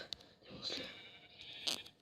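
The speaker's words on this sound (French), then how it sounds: "On entend, c'est le pauvre mouton." A sheep in the video game Minecraft bleats several times, short quavering calls spaced apart, clear but fairly quiet, with no talking over it.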